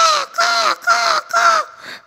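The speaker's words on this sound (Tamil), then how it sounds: "அம்மா காக்கா திரும்பி வந்துச்சான்." A crow gives four loud, harsh caws close by, evenly spaced about half a second apart, followed by a fainter fifth call.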